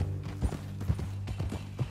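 Horse hooves clip-clop in Red Dead Redemption 2, a steady near rhythm of soft, thudding footfalls over a low droning game background with no talking.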